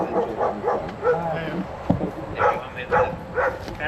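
Dogs barking and yipping at an outdoor market during a walking tour, several short barks scattered across the moment, mixed with people talking and street noise.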